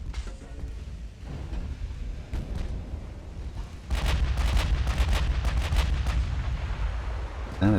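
Naval gunfire in Ultimate Admiral: Dreadnoughts, with heavy shells up to 16-inch launching and striking light cruisers in a rolling, dense barrage of booms and cracks that swells louder halfway through and stays continuous.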